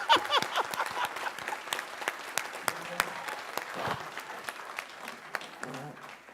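At a school board meeting, an audience applauds a newly appointed middle school principal, with sharp individual claps standing out early, then thinning into scattered claps and faint voices.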